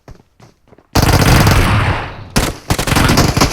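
Rapid bursts of video game gunfire blast out loud and dense after a quiet start, with a brief pause before more shots resume.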